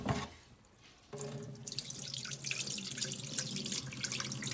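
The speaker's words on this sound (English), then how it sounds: "And I pour it off." Rinse water is poured off rice into a kitchen sink, beginning with a brief quiet handling sound before a steady splashing, trickling stream, close and moderately loud, with no voices.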